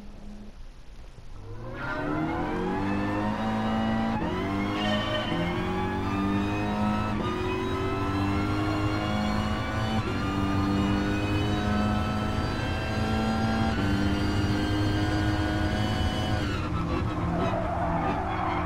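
A race car in the Gran Turismo sim revs hard and steadily, its engine note climbing and dropping through several gear changes, loud and continuous with no talk over it.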